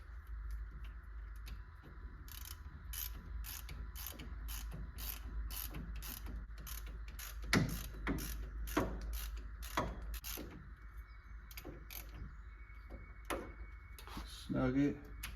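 A wrench ratchets on the wheel bearing bolts of a 2011 Chevy Silverado, with irregular series of sharp clicks over a steady low hum, close and fairly quiet.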